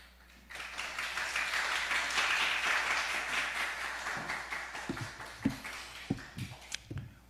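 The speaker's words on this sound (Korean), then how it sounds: "우레와 같은 박수로 환영해 주셔서 감사합니다." Warm applause from a Baptist church congregation at a Sunday worship service welcoming a guest preacher, a full dense burst of clapping that swells, then thins into scattered individual claps near the end.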